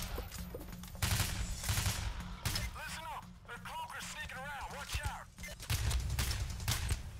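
Machine gun fire in Payday: The Heist comes in loud bursts of rapid shots, broken by short pauses and a stretch of shouting and chatter between volleys before the gunfire resumes.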